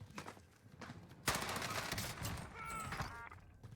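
Type 100 submachine gun firing in the video game Warzone: a fast, crackling automatic burst that runs for a couple of seconds at moderate loudness, alone with no talk.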